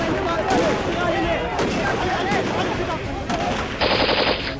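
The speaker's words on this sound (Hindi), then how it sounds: "गोलियों की तड़तड़ाहट और ग्रेनेड के धमाके" Dense, loud machine gun fire in rapid bursts during a terrorist attack on Mumbai, with several sharp gunshot cracks standing out from the continuous rattle.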